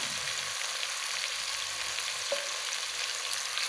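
Ground beef frying in a pan for spicy sautéed papaya flowers, a steady, close hiss of sizzling fat throughout with one faint clink of a utensil partway through.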